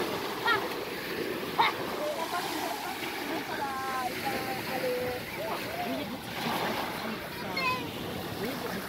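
Sea water washes up onto a beach in a steady rushing hiss of surf, continuous and fairly close, with people talking and calling out over it.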